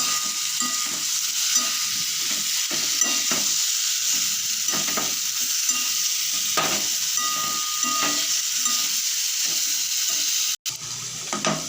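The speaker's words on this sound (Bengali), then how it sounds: "এখন বয়েল করে রাখা এঁচোড়টাকে দিয়ে ভালো করে মিশিয়ে নেব" Boiled jackfruit stirred into fried spice paste in a pan: a continuous close sizzle with repeated scraping strokes of the stirring spoon throughout, no voices.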